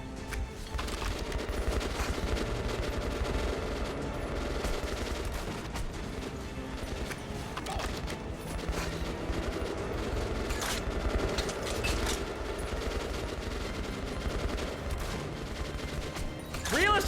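Sustained automatic gunfire in Metro: Last Light, dense rapid bursts that run almost continuously, loud and close, with a brief spike at the end.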